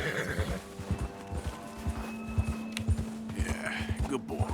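A horse in Red Dead Redemption 2 whinnies over steady clip-clop hoofbeats on the ground, close and clear, with someone talking over it.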